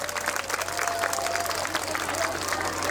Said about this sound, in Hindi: एक बार जोरदार तालियां हो जाए, कम ऑन।